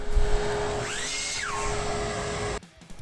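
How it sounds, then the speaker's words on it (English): A table saw rips strips of scrap maple, producing a steady high motor whine with a rising and falling tone through the cut before the sound cuts off abruptly. "Over at the table saw, I ripped down a couple strips of scrap maple."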